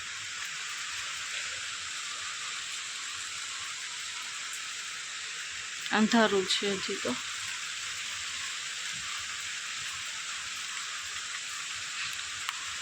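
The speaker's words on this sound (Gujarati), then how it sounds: "તો ફ્રેન્ડ્સ, વરસાદ ચાલુ થઈ ગયો છે" Steady rain falls outside in the dark early morning, a constant even hiss throughout, broken midway by a few seconds of a person speaking.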